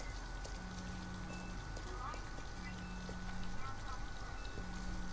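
Steady rain falls throughout a scene in the video game Detroit: Become Human, a constant close hiss with faint drips and a low hum beneath it.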